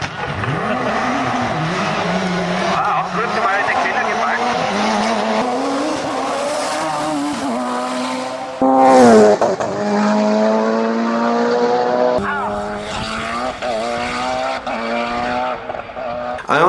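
A Corvette C5 FIA race car at a hill climb enduro race, its engine revving hard and climbing through gears, with rising and falling pitch as it passes and shifts, loud and sustained.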